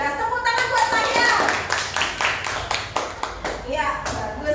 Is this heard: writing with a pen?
no